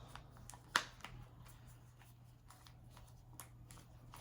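A deck of oracle cards is shuffled close by, quiet riffling with one sharp snap near the start and soft scattered flicks afterward, no talk.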